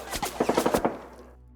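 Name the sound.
submachine gun fire sound effect, tabletop wargame narration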